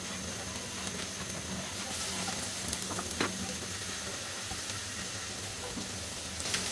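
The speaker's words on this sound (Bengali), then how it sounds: "তার মধ্যে আমি প্রায় 2 কোয়া বড় বড় সাইজের রসুন এরকম কুচি কুচি করে নিছি। এই কুচি কুচিটা দিয়ে আমার একটু ভেজে নিতে হবে আর কি।" Chopped garlic, two large cloves, sizzles in hot cooking oil in a pan for pasta, a steady close hiss with faint crackles and no voices.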